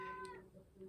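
A pet cat gives one short, close meow, sharp at the start and fading within a second, heard alone in a quiet room.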